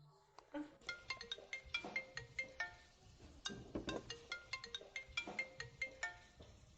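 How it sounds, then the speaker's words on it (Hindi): A melodic phone ringtone plays a quick, repeating pattern of bright chiming notes in a steady rhythm, fairly soft and with no talking. "मैंने क्या कहा था? फोन आ गया ना? नहीं उठाओगे?"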